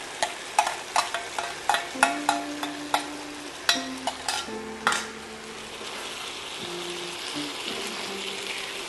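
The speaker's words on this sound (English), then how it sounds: "just the onion goes in" Onion hitting a hot skillet for black pepper beef, starting with a run of sharp clacks and taps of a utensil against the pan, then settling into a steady close sizzle with occasional scrapes.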